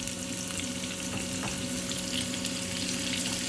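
Hot oil sizzling as a garlic tadka tempers for masran dee daal, a continuous loud frying hiss with a faint steady hum beneath and no speech.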